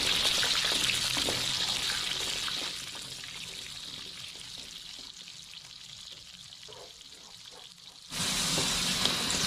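Meat frying in oil in a pot for a ragout, a steady broadband sizzle that dips quieter midway and then surges loud again near the end, with no voices.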